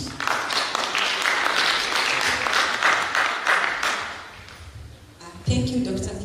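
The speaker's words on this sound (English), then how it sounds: "Let's clap for her as she comes." Audience at a theological seminary graduation ceremony applauds steadily for several seconds as a presenter comes forward, the clapping thinning out before a voice begins speaking near the end.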